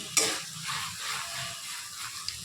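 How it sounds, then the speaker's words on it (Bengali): Okra (bhindi) frying fairly dry in a pan with a little sugar, giving a steady soft sizzle and a sharp clink near the start, close and quiet. "এইভাবে ভালো করে মিশিয়ে নিয়ে ভেন্ডিটা এক জায়গায় সমান করে দিয়ে"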